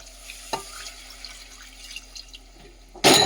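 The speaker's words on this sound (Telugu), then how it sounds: "ఇది కలిపేసుకొని కొంచెం వాటర్ వేసేసుకొని మూత పెట్టేసుకుందాం." Water poured into a pot of mutton head curry, a short burst of splashing near the end after a quiet kitchen stretch with a faint clink.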